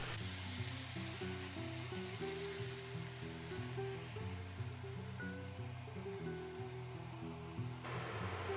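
Egg mix for a spinach and feta frittata sizzles in a skillet, a soft, steady hiss throughout with quiet background music underneath.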